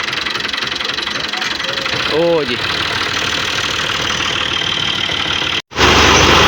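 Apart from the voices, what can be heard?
tractor engine running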